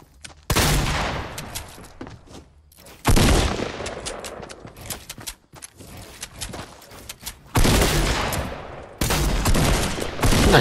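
Loud automatic gunfire in a shooter video game, several long rapid volleys close up, separated by brief quieter pauses, with no talking.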